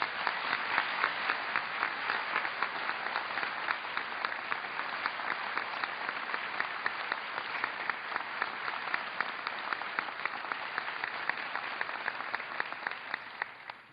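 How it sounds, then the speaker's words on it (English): A large crowd at a September 11 anniversary ceremony gives sustained applause for Medal of Honor recipients, an even, continuous roar of clapping that holds steady and fades slightly at the end. "Please give them another round of applause."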